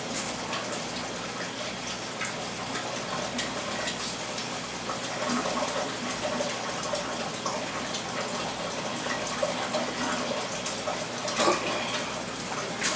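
Tap water runs and gushes through a DI resin chamber being rinsed out, a continuous, fairly loud splashing flow with small fluctuations as the chamber is moved under the stream.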